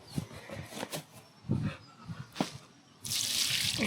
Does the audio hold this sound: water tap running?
yes